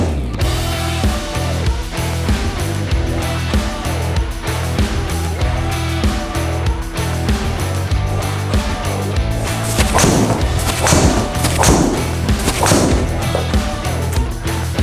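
Golf clubs, including a new Ping G433 wood, striking balls during a full-bag distance gapping session; a rapid, continuous run of loud, sharp cracking impacts, close and alone.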